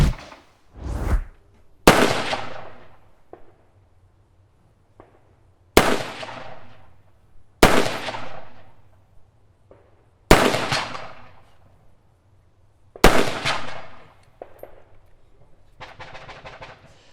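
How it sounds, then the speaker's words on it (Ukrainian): Six sharp shots from a Robinson XCR semi-automatic rifle, fired standing, ring out one at a time, spaced a couple of seconds apart, each with a short echoing tail, fairly loud and close. "Зараз ми ще постріляємо стоячи, щоб ви побачили збоку, як працює."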